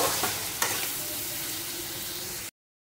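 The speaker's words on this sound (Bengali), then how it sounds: "বেশ করে এটা নেড়ে নেব" Soya mixture with sugar, turmeric and chilli powder is stirred and fried in a pan, giving a steady close sizzle with a few scraping stirs near the start, then it cuts off abruptly.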